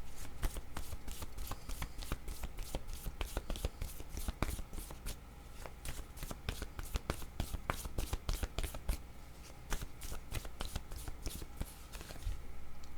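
Oracle word cards are shuffled and drawn in a quiet room, a rapid, steady run of soft papery riffles and flicks up close, with faint murmuring in the background.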